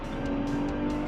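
A GT4 race car runs on the Thermal Club track, its engine droning loud and steady from inside the cabin throughout.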